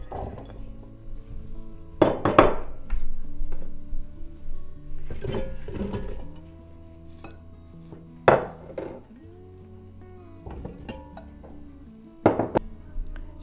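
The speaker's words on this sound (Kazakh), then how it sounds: "Енді осындай темір ыдысқа жемістерімізді саламыз" Pieces of fruit drop into a metal pot for a compote, giving repeated clanks and clinks of metal with irregular pauses between them, close and fairly loud.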